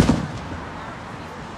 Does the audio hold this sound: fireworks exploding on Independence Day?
yes